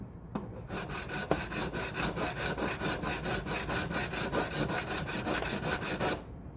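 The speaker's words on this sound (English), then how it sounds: "the best thing for stainless is a diamond recrowning file, the offset file from Stumac" A diamond recrowning file works over stainless steel frets during a refret of a vintage Alvarez 12-string guitar, a rapid, even series of rasping strokes, close and steady, then stops.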